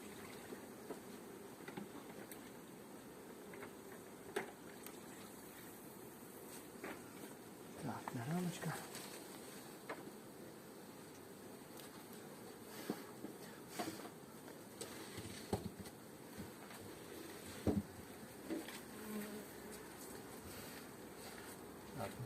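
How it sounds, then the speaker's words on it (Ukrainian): A honeybee swarm hums softly inside a hive, a faint, continuous low drone with occasional louder rustles and buzzes, heard close and steady throughout. "Отакий от у нас гарний ройчик"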